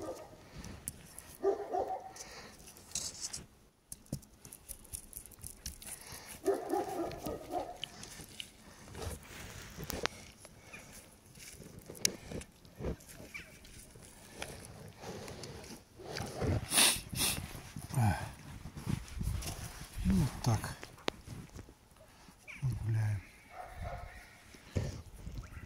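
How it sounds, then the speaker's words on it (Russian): Wolf cubs playing with puppies outdoors on an evening walk, with scattered yips, barks and whimpers of varying loudness over a rustling background, and a person talking now and then. "Волчата играют со щенками."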